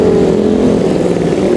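A custom Harley-Davidson Sportster with a carburetor engine and chain drive rumbles loudly and close at a steady idle, a continuous low throbbing engine note with no talk over it.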